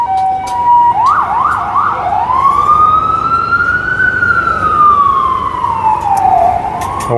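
Emergency sirens on a New York street, with a quick yelping burst followed by a long, loud wail that rises and falls over steady traffic rumble.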